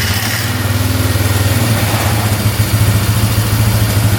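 A cheap used ATV engine idles steadily close by, a low, even throbbing pulse with slight unevenness in its rhythm, running alone without voices.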